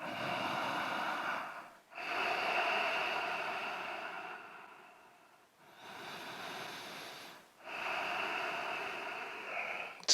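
Slow deep breathing during a cool-down in an at-home banded workout, long airy inhales and exhales at close range, each lasting a few seconds with short gaps between, and no speech.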